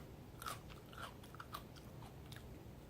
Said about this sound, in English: you still get crunch